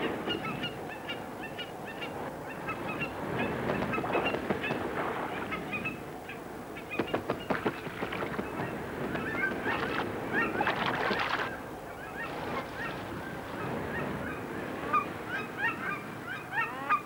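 Aleutian geese honking near a pond, a flock of repeated, overlapping calls that come in bursts over steady background noise, loudest through the middle stretch.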